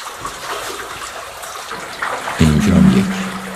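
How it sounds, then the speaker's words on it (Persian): Water gushing and bubbling out of underground veins in the earth, a steady flowing trickle that swells into a louder, fuller gush partway through, close by. "به خروج یا رگ‌های آبی دقت کنید که چقدر آب قشنگ از این رگ‌های درون زمین میزنه بیرون"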